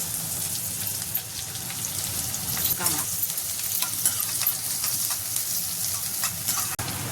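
Garlic tempering sputtering in hot oil for a ridge gourd dish, a loud, dense crackling sizzle up close with scattered pops and a brief clank of a utensil.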